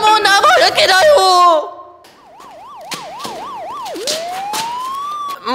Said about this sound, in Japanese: まずいよ、パトカーがこっちに来てる。